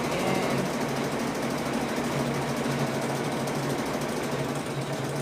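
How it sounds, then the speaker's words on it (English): A computerized embroidery machine stitching a tooth design onto a mouth shape runs in a steady, fast mechanical rattle with a low hum, continuous and fairly close throughout. "it's sewing the tooth in the mouth"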